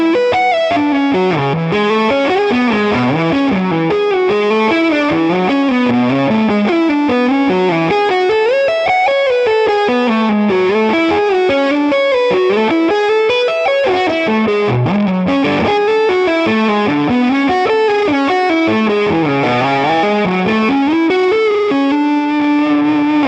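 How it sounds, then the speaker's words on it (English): Electric guitar lead line driven through a Tube Screamer into a Two-Rock tube amp on a PRS Private Stock, thick saturated distortion with sustained melodic notes and a touch of reverb, loud and continuous throughout. "there is a lot of kind of tube distortion coming out of this 2-rock"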